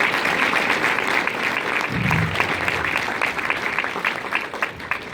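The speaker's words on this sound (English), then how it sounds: "so please give them a round of applause." Warm applause from an audience at a talk, steady and loud clapping from a large crowd that holds for about five seconds without letting up.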